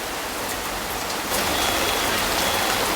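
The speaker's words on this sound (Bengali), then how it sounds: "কি জোরে বৃষ্টি আসলো" Heavy rain pouring down, a dense, loud, unbroken hiss that swells a little stronger partway through, with no voices over it.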